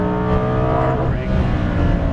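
A 2018 Lamborghini Huracan Performante drives hard on a race track, its engine roaring loud and close from inside the car with a brief dip in pitch partway through.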